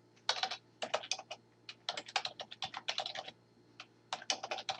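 Fingers type on a computer keyboard in quick, irregular bursts of crisp clicks with short pauses between, close up over a faint steady hum.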